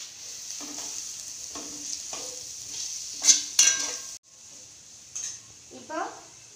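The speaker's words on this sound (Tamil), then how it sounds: "நல்லா வதக்கிக்கோங்க" Chana masala with coriander powder, chili powder and salt sautéing in a pan, with soft intermittent sizzles and spoon scrapes against the metal, plus a few sharper clinks, over a quiet background hiss.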